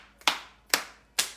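Three sharp hand claps, evenly spaced about half a second apart, made during a qigong exercise; close and clear against a quiet background.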